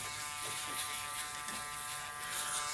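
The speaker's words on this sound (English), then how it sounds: "we'll use our electric shaver. And we'll go underneath." An electric shaver buzzes steadily and close up during a fade haircut, a continuous loud hum with no talking.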